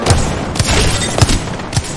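Thudding booms of a frag grenade blast amid a multiplayer shooter firefight, with several heavy low impacts spaced roughly half a second apart over a dense, noisy battle background.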